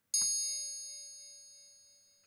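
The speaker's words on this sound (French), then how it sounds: "Et alors les tingshas, c'est les petites clochettes tibétaines." A synthesized tingsha, the small Tibetan bell, made on a modular synthesizer: a single bright metallic strike with clean high overtones that rings out alone and fades slowly over a couple of seconds.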